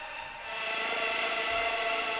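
A drum and bass synth bass patch playing sustained without its arpeggiator, built in Logic Pro X; a dense, steady electronic tone that swells slightly after the start and holds at a constant loud level alone.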